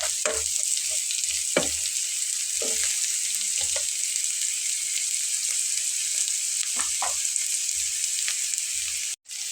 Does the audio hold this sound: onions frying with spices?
yes